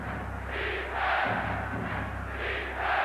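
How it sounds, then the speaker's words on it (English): A capacity basketball arena crowd at a 1992 Bulls–Knicks playoff game chanting for defense, rhythmic swelling roar of many voices repeating in pulses, loud and reverberant. "the chant of defense from this capacity crowd"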